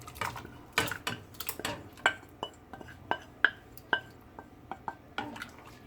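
Cornmeal porridge cooking in a pot of boiled ingredients as more is added: a series of close clinks, taps and small splashes of utensil against pot, irregular and quiet, with no talking.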